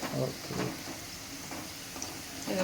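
Okra and potato pieces frying in a pan, a soft continuous sizzle with a few scraping stirs of a spoon at the start and end, fairly quiet and close.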